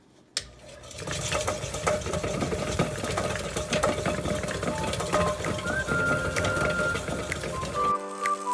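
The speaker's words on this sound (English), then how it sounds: "and then we'll stick it on the rock tumbler." A rock tumbler loaded with dirty coins from metal detecting runs with a steady mechanical rattling and clinking hum that goes on for several seconds after a sharp click at the start.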